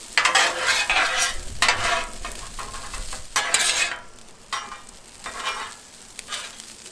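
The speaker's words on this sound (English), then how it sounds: "Make sure to stir it stir it pretty often. We're just trying to dry the rice out." Rice stirring and frying on a Blackstone griddle, a steady close sizzle broken by repeated bursts of scraping as the spatula works through the grains. No voices are heard.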